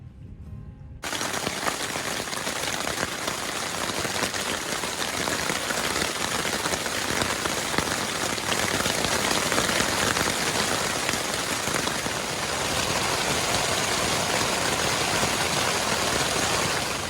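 Heavy rain drums on a tent during a backpacking trip along a creek, a dense, loud, continuous patter that starts suddenly after a brief moment and keeps going with no talk.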